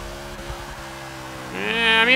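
A 2013 Ram Runner truck in Forza 6 rumbles along with game engine noise, then breaks into a rising, loud tire squeal during the last stretch as it drifts sideways.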